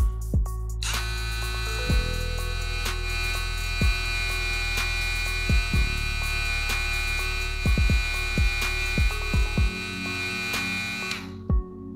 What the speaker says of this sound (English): Madeshow hair clipper or a trimmer, they are very, very quiet, just like this one.